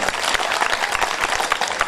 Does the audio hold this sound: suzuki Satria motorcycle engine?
no